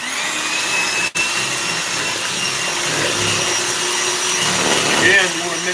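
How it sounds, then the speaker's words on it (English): An electric mixer runs steadily on low to medium speed, whirring as it beats eggs with sugar for a Dundee cake, a loud continuous drone with a brief cut-out early on. "Now you want to mix the eggs with the sugar."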